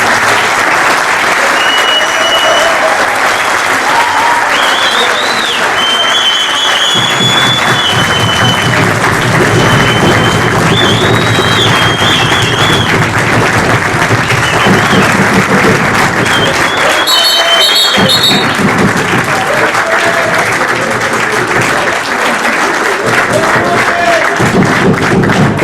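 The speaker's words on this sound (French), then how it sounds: "je vous demande d'applaudir la police de Oujda" Large crowd at an international university rally in Oujda applauds the city police, long sustained loud clapping with cheers, whistles and some thumps, voices mixed in throughout.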